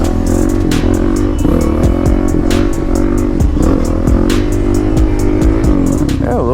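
A motorcycle engine revving hard in first gear during a wheelie attempt, loud and close, with a steady roaring drone and rising and falling throttle surges throughout.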